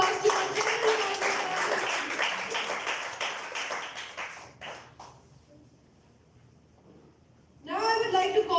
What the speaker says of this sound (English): Please give a huge round of applause to our general manager.